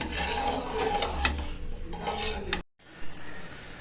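A spoon scrapes and stirs a thick ghee rice mixture with added water in a metal pot, rhythmic rasping strokes close up, then a brief pause.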